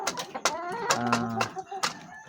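A hen clucks in short, repeated bursts, close by, with a few longer drawn-out calls in the middle.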